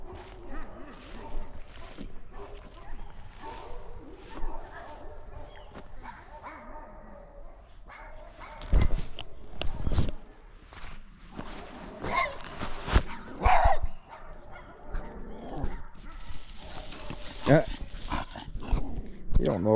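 Chihuahuas bark and yip in short, scattered outbursts at moderate distance, mixed with whimpers and heard under ongoing talk from people in the room.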